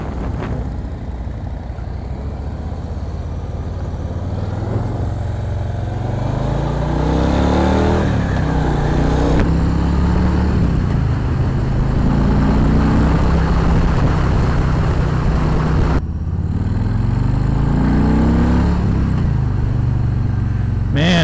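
A Harley-Davidson Street Bob 114 motorcycle rumbles while ridden, its engine note rising and falling through several gear changes, loud and close throughout, with a voice talking over it.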